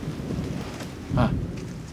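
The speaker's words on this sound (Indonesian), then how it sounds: "Dari tadi terdengar geledek, tapi hujannya tidak datang-datang" Thunder rumbling on a mountain hike up Mount Dempo in South Sumatra, a continuous low distant roll that swells briefly near the middle, with no talk over it.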